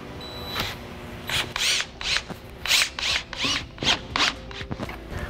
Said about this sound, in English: So we're going to use those holes that we drilled to put the pocket hole screws.